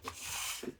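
A creaking chair gives a brief, close rubbing creak lasting under a second, with a soft thump at the start and end and no talk.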